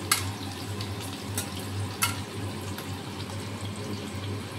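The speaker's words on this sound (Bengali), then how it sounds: "একটু লাল করে ভেজে দেবো।" Vegetables fry in a pan with a steady, close crackling sizzle, sharpened by a few louder spits and pops over a constant low hum.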